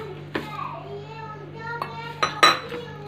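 Crushed Oreo biscuits are mixed with milk in a bowl, with a few spoon clinks and knocks against the dish, spaced out over a quiet background with a faint low hum.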